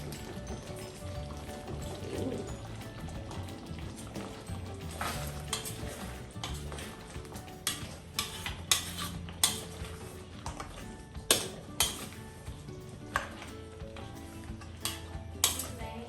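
A spoon stirs chicken afritada with hotdog in a pot, soft scraping and clinking against the metal with a few sharper knocks, over a low simmering sizzle and background music.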